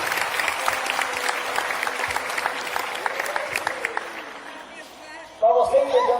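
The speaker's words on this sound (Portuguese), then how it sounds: "E pode aplaudir que a casa é para isso." Applause fills a church congregation, steady clapping that fades out over several seconds before a voice speaks near the end.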